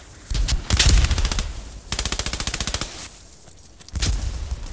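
Machine gun fire in the World War II video game Post Scriptum: several loud, close bursts of rapid automatic shots separated by short pauses, with no voices over it.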